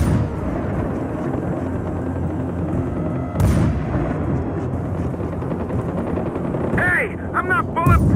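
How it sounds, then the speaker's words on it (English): Gunfire aimed at the player in Far Cry 4 crackles over a constant helicopter-like drone, with a sharp burst midway, and a voice calls out under the noise. "Contact, bad guys coming in from the north. I'm taking fire."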